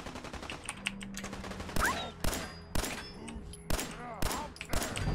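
Fallout 4 gameplay gunfire: about seven loud, evenly spaced shots ring out over a low game ambience, each with a sharp crack and short reverberant tail.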